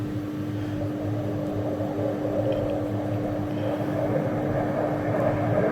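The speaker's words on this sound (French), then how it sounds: "il y a un avion qui passe" A low, continuous airplane drone passes overhead, a steady rumbling hum that slowly swells in loudness with a faint tonal whine running through it, no speech.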